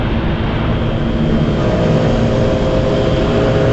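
A manual motorcycle engine pulling in fourth gear, giving a loud, continuous drone with steady road and wind noise, close and uninterrupted with no speech.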